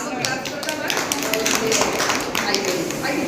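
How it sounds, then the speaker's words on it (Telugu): A class of children claps hard together, making a dense, steady patter of hand claps while a teacher's voice is heard under it. "గట్టిగా క్లాప్స్"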